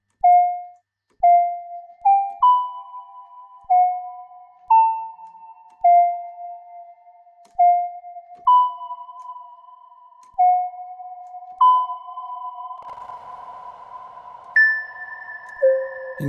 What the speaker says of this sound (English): If you want to put some reverb on.